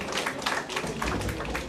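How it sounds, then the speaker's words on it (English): An audience at a G20 seminar at DAV College, Jalandhar claps together in a brief, steady patter of applause that fills the hall evenly. "Please give him a huge round of applause"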